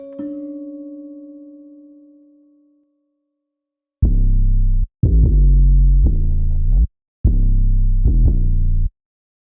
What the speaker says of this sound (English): the 808 pattern is just the bass